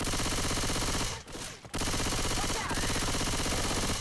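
Rapid automatic gunfire in the video game Left 4 Dead 2, a loud, dense stream of shots that briefly breaks off and then resumes in a continuous fusillade.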